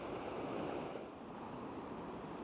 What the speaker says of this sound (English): I just want to turn the camera around and show you the sea coming in